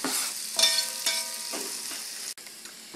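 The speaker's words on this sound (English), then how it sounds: "I've already pre-chopped half of an onion, and I'm going to begin sauteing it." Chopped onion sizzling as it sautés in extra virgin olive oil in a big pot, a close crackling hiss with a few stirring scrapes and clatters and no talking.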